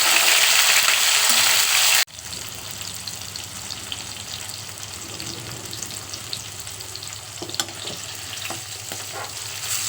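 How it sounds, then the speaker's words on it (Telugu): Green chillies, tomato and garlic fry in a pan with a loud, steady sizzle that drops abruptly after two seconds into a quieter crackle, with occasional stirring clinks and no talking. "మన పచ్చిమిర్చి టమాటా ఎల్లిపాయ అన్నీ కూడా ఫ్రై అయినాయి"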